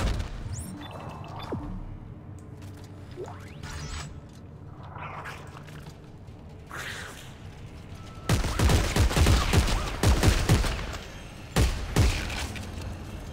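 Gunfire in the video game Dead Space 3: after quieter rustling and mechanical sounds, loud rapid bursts of shots and crashing impacts erupt, then break off and return once more.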